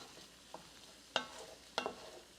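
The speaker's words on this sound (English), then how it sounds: "add about a tablespoon of butter to your mushrooms. Go ahead and stir that around." Mushrooms in butter being stirred in a hot pan, with a low sizzle under a few sharp scrapes of a utensil against the pan, quiet and close.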